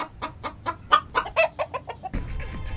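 A woman imitates a hen clucking, giving a rapid string of about a dozen short, clipped clucks in an even rhythm, close and clear, with a louder burst of noise at the end.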